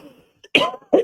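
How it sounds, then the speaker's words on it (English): A person coughs twice in quick succession, close and fairly loud, after a brief faint throat sound and near silence. "My cough has just been getting worse and worse."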